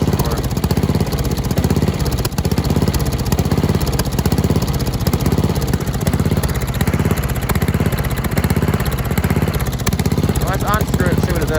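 A Murray racing lawn mower engine runs steadily and loudly throughout while its carburetor is being adjusted, a continuous close buzzing drone with no breaks.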